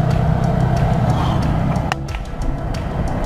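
A tuk-tuk three-wheeler in Sri Lanka drives at about 40 km/h, its small engine droning steadily up close, with road and wind noise and a brief dip in the sound partway through.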